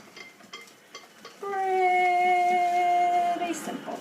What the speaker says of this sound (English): Get your whisk and whisk it up.